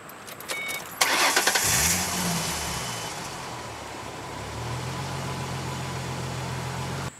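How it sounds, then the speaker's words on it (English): A car engine cranks briefly and catches after a portable jump starter is connected, then settles into a steady, close idle that continues to the end. "all we have to do is start the vehicle"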